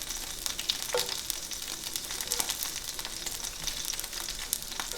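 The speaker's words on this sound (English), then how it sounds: "If you want the sausage to cook, I'm going to bring the sausage up just a hair in heat." Sausage sizzling and frying in a hot pan, a steady bright crackle with occasional pops and light stirring, close and continuous with no talking.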